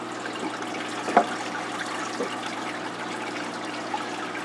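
Water pours steadily into an aquarium tank holding gourami, a constant close trickling rush with a couple of faint knocks, and no one speaking.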